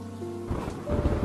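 A night thunderstorm over a village: a deep rolling thunderclap swells in over steady rain, with the rumble and downpour growing louder toward the end.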